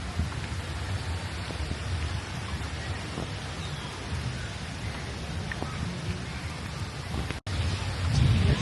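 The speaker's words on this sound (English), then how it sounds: "Thundering." Steady light rain and distant thunder rumble over a Brooklyn street during a summer heatwave, a continuous broadband wash with low rolling energy throughout and a brief dropout near the end.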